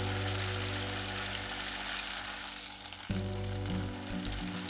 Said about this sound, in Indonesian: Ini saya miringkan agar semua potongan sampelnya itu bisa terendam minyak.